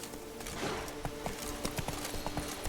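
Horse hooves clip-clop at a steady trot in The Witcher 3 video game, a regular run of close, sharp hoof strikes over a soft background bed.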